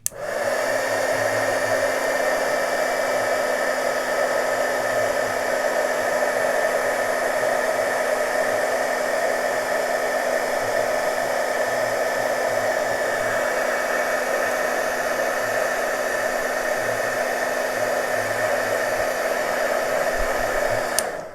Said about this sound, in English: my heat gun out, and you heat it up like you would embossing.